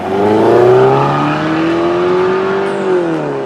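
A 2017 Mercedes-Benz GLC Coupe accelerates with a throaty exhaust note. The engine tone climbs smoothly and loudly as it pulls, then levels off near the end.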